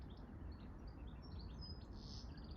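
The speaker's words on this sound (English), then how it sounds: "Little robins on quality control." Faint, high robin chirps flicker intermittently over a low rumbling background in an allotment garden, distant and quiet.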